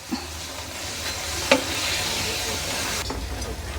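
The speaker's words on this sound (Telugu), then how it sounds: "అన్నీ డీప్ ఫ్రై చేసుకుందాం మనం" Stored puris deep frying in hot oil give a steady close sizzle and hiss, with a few brief clinks and stirring sounds.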